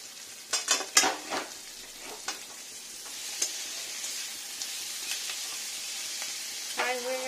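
Arum (taro) frying in a hot pan, a steady sizzle with a few scraping stirs and clinks of a utensil early on, close and moderately loud.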